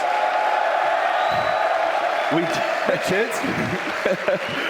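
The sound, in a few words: crowd cheering at DreamHack StarCraft 2 event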